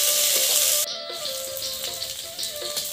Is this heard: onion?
yes